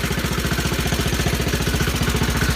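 Cub Cadet model 86 tractor engine idling steadily with a new muffler fitted, a loud, close, even pulsing thump at a regular fast rhythm with no voices.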